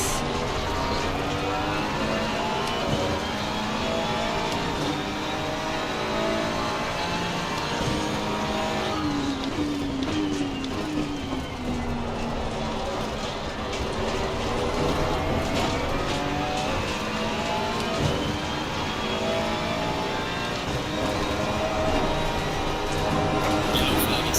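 A Porsche race car in Assetto Corsa Competizione, racing at the Nürburgring, drones at high revs, rising and falling through the gears for the whole stretch. The engine note stays loud and continuous, with other cars' engines blending in.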